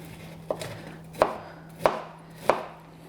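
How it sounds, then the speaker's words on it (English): Knife blade rough-chopping broccoli heads on a cutting board, four crisp thuds spaced roughly evenly, close and clear with no talk. "When you're rough chopping, you want to get this into sort of bite-sized little pieces."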